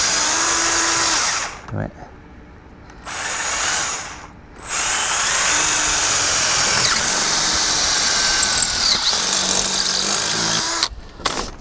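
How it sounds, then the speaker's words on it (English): A power drill bores a hole straight through fencing material on a chicken tractor build, whining loudly in long sustained runs with brief pauses between bursts, close by, and a voice speaks briefly. "I'm just gonna drill us a hole all the way through."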